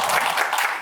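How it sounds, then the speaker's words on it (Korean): Audience applause at a public science lecture on architectural design in Daejeon, a short burst of dense, steady clapping from a room of listeners, close and even throughout. "박수 한번 주세요. 박수."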